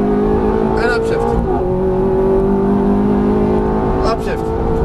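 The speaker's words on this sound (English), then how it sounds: "a little throttle, very good, right into the apex on the right, look at your exit over there, begin to unwind, full throttle, let's go, and upshift" A Ferrari F430 on a racetrack accelerates hard at full throttle, its engine note rising loud and close, then dropping sharply at each upshift, with an instructor talking over the engine throughout.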